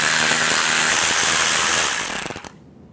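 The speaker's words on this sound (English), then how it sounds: "take these two screws out" A power tool with a T20 socket drives out screws from a Chevrolet Silverado power window and door lock switch, making a loud close whirring buzz. The buzz winds down in stuttering pulses and stops after about two and a half seconds.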